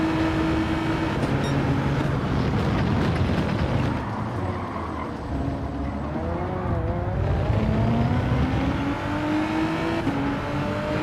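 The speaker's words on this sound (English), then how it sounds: "Accelerating a bit too hard out some of these corners." A race car in Gran Turismo 7 at the Red Bull Ring, its engine revving hard and climbing through the gears as it powers out of corners. The engine note is loud and steady throughout, with repeated rising and falling pitch.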